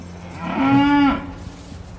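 A single loud, drawn-out moo from a nearby cow in a farm barn, rising and then fading over about a second against a low background hum.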